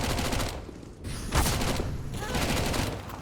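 Rapid gunfire bursts in Counter-Strike during a Mirage map match at IEM Sydney 2023, sharp crackling shots from the game mix in quick clusters over a few seconds, moderately loud, with a caster's voice briefly underneath.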